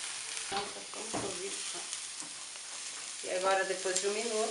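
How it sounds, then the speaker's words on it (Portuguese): Butter melting and sizzling in a frying pan before a port wine sauce for filet mignon medallions, a steady crackling hiss under a man's speech. "Colocar a manteiga na frigideira para poder dar uma consistência para o molho de vinho."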